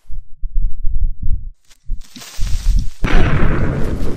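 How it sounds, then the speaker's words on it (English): A creeper in Minecraft blows up with a loud, close explosion burst that spreads into a broad crackling noise. It follows a short run of low thumps and a brief quiet pause. "I'm gonna let him blow up."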